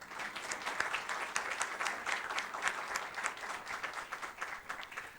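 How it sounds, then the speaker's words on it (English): An audience claps to welcome panelists at a STEM event, a soft, steady round of applause heard from some distance throughout. "share with me a round of applause to our panelists here and give them a big, warm Jordanian Irish welcome"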